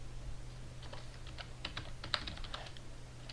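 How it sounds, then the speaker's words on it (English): Rapid keystrokes on a computer keyboard, a steady run of light, close clicks over a low constant hum, with no voices. "So let's type"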